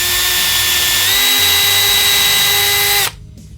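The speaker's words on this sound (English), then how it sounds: "I'm just gonna take my drill and I'm just gonna" A loud, high-pitched electric drill whirs steadily at close range for about three seconds, drilling a small screw hole in an Encore guitar, its pitch rising slightly, then stops abruptly.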